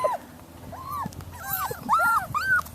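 A puppy whimpers in a series of high, rising-and-falling whines, close and fairly soft, during its first exploration of a backyard.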